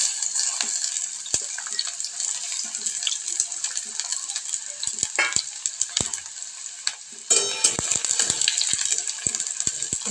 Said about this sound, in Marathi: कांदा चांगला भाजून घेऊया